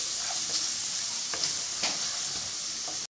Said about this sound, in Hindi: इसको हम थोड़ा सा और चलाएँगे।